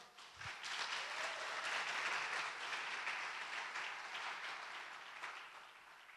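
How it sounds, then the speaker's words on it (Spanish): A church congregation bursts into applause during a sermon, a dense wash of clapping that swells quickly, holds steady, then gradually thins toward the end, with faint voices mixed in. "Dale un aplauso al Señor."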